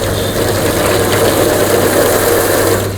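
A Wilo self-priming water pump motor runs steadily with a constant low hum and droning whir, loud and close, with no talking over it.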